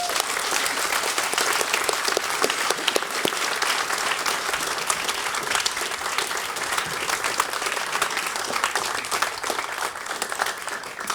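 Conference audience giving a long, sustained round of applause for a panel, dense even clapping from many people throughout with a faint murmur of crowd under it.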